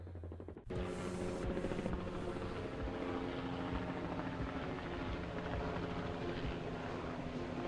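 A Bell attack helicopter flying, a loud, steady rotor and engine roar that cuts in abruptly and holds constant and close throughout.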